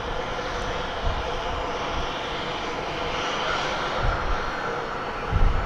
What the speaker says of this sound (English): we've got two planes lined up to take off down here on runway 36